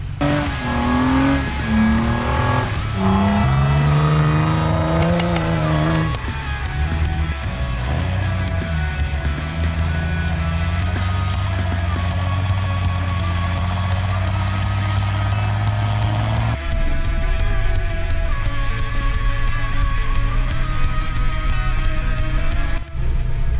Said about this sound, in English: Got a little clickety poppity noise coming out of that little Dana 30 in the front end